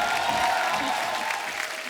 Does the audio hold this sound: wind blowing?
no